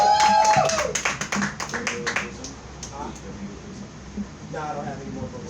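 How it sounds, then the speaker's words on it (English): A few scattered hand claps at a happy-hour gathering come in short bursts near the start, mixed with voices talking and then fading into quieter chatter. "Gives you another round of applause"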